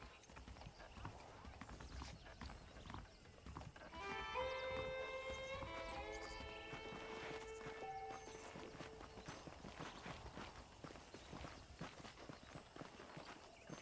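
Horse hooves clip-clop at a walking pace in the Red Dead Redemption video game, close and steady over a low ambient bed, with a horse whinnying partway through.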